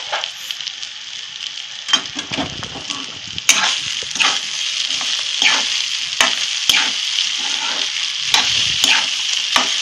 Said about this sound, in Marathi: 2 मिनिट आपण परतून घेऊया फास्ट गॅस वरती छान असं।